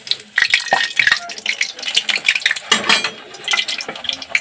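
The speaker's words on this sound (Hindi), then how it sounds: "थोड़ा पानी छिटक रहा है" Busy kitchen clatter as a pea and potato curry cooks, with watery splashing and sizzling bursts, scraping and clinking of utensils throughout, fairly close and continuous.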